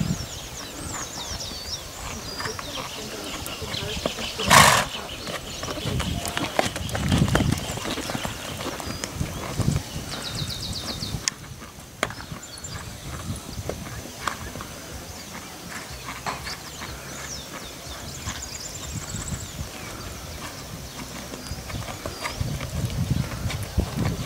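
An eight-year-old purebred Lusitano gelding walks with clear, rhythmic hoof clip-clops on a stud farm, steps repeating evenly at close range, accompanied by occasional snorts, a brief bang, faint birds and intermittent shuffling.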